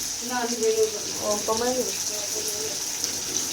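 Water streams steadily into a cooking pot where chicken is frying, a continuous close gushing hiss. A voice talks over it for part of the time.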